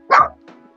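A dog gives a single sharp, loud bark up close, followed by a faint softer yip.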